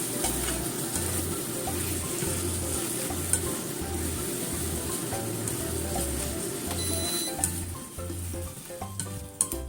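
Half-cooked eggs with tomato and maitake mushrooms being gently stirred in a frying pan, a steady sizzle running throughout with soft rhythmic scraping strokes of the utensil against the pan, no talking.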